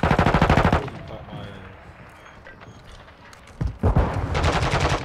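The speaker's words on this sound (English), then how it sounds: "Taking effective fire!" Rapid automatic gunfire from the Call of Duty Modern Warfare II Shoothouse map, loud bursts at the start and again near the end with a quieter stretch between, under shouted in-game voices.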